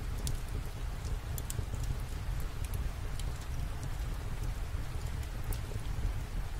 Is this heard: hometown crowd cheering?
no